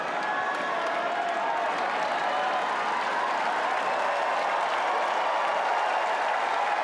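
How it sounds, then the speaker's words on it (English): Tennis crowd at Wimbledon applauding steadily after a rally, a dense continuous wash of clapping with some murmuring and faint cheers, sustained at even loudness throughout. "Listen to the crowd."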